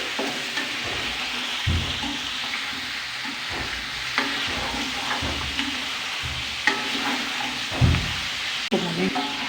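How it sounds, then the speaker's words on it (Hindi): Boiled mutton frying and being stirred in a pot for a yakhni pulao, a steady broadband sizzle broken by repeated scraping stirs, with faint kitchen clatter and a sink-like water wash running underneath. "गोश्त को हम अच्छे तरीके से भून लेंगे"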